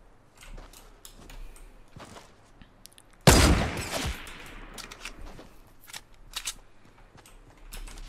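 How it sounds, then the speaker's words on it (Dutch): A loud burst of rapid gunfire in Fortnite Battle Royale erupts midway, surrounded by scattered sharp clicks and quieter shots. "ik zie daar schoten vanaf boven"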